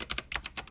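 Quick keystrokes clatter on a computer keyboard, a handful of close, crisp taps in an uneven burst with no speech.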